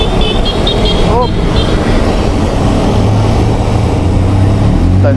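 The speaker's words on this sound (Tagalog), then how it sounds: "Oh, may isa pang kotse." A car passes on a steep uphill road near Antipolo, a loud broadband engine and tyre roar close by that fills the whole stretch, with people talking over it.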